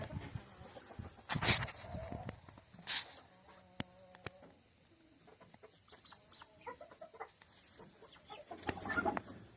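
Chickens cluck and squawk in short bursts outside a chicken house on a homestead, with insects buzzing around them and a few sharp knocks, all fairly close.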